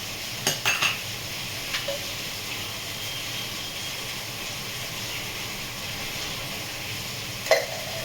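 Oil heats in a kadai with a faint, steady sizzling hiss, broken by a few light metallic clinks near the start and one sharper clink toward the end.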